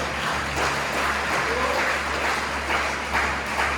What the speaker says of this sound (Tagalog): Isang palakpak pa.